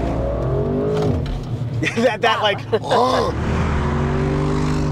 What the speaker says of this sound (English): So hearing more exhaust noise right now, and the steering has gotten heavier.